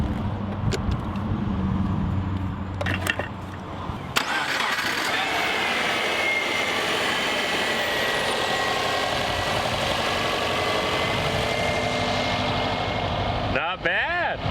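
A 2009 Subaru Impreza WRX bought at a salvage auction cranks briefly, then catches and settles into a steady, loud idle, with a person speaking over it.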